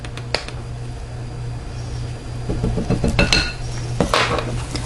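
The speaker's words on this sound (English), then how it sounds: "I'm just going to stir all the ingredients together and gently whisk it" Custard ingredients with nutmeg and cinnamon are whisked in a bowl for a fruit custard pie, the whisk clinking and scraping against the bowl in quick irregular taps over a low steady background hum.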